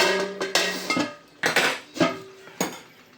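Metal lid set down on a pan of fish curry, a few sharp clanks and rattles close by, spaced out over a few seconds.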